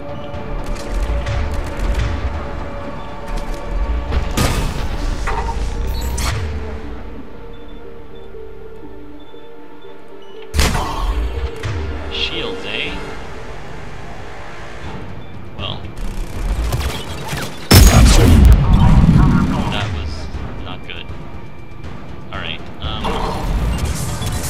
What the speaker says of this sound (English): I hear turrets